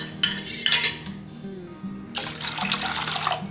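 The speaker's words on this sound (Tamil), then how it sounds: "ஒரு பாத்திரத்தில் தண்ணி எடுத்துக்கிட்டு கொஞ்சம் அதில் மோர் ஊற்றணும்." Liquid splashes into a metal kitchen vessel as buttermilk is poured into water, two bursts of pouring with clinks of the pot between them, close and clear with no talking.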